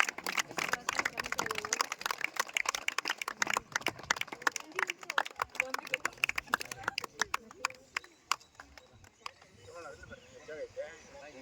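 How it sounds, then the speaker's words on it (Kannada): Students applauding at a school World Environment Day tree-planting and teacher felicitation event, a dense patter of claps that thins toward the end, with a voice speaking through it. "ಜೋರಾದ ಚಪ್ಪಾಳೆ ವಿದ್ಯಾರ್ಥಿಗಳಿಂದ."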